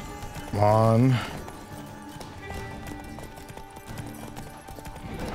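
Rhythmic hoofbeats of a horse galloping in The Witcher 3 during horse-back combat, running steadily under game music and effects, with a loud burst of vocal sound near the start.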